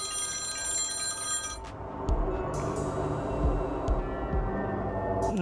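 Telephone rings out repeatedly with a bright electronic tone in the opening second and a half, near and clear, then stops as ambient synth pads and strings from a live keyboard jam take over.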